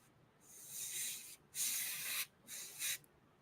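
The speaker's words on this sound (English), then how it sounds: "I'm trying to get inside there without a lot of overspray." Three short bursts from a spray can or airbrush coating the inside of a model, each a steady close hiss separated by brief pauses, with no talking.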